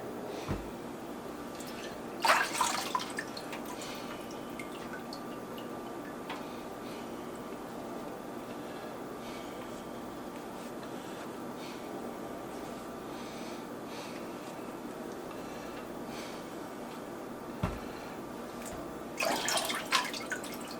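Water drips and trickles off all-beef summer sausages as they are lifted from a cold water bath, a few short splashy bursts and scattered drips over a quiet kitchen background.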